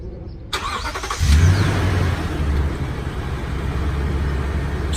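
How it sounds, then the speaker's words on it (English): A Toyota Tundra pickup fires up by remote start: a brief quiet pause, a sharp crank, then the engine catches and settles into a steady, close idle rumble. "Starts the truck."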